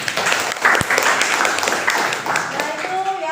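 Students in a classroom give a short round of applause, close, brisk hand clapping with a few voices underneath that fades as a teacher begins to speak.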